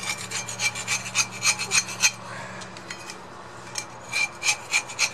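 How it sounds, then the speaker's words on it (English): A vehicle's brake drum gets its edges cleaned by hand, a quick repeated rasping scrape in short rhythmic strokes, close and moderately loud, briefly pausing midway before resuming. "what I do with this drum is I clean it a little bit here along the edges"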